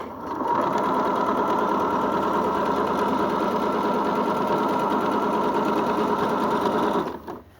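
Sewing machine stitching elastic onto fabric: one continuous fast mechanical whirring run of stitches lasting several seconds at close range, starting and stopping cleanly, with no voices.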